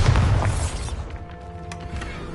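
The Bombarda explosion spell from Hogwarts Legacy on PS5 lands as a loud, deep boom at the start, then decays into a rumbling tail with faint scattered debris and mechanical clatter.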